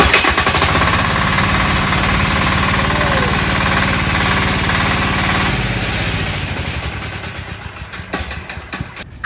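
A large diesel engine started with a hand crank runs loudly and steadily close by, its rapid chugging knock continuous before the pitch shifts and the sound slowly tapers off toward the end.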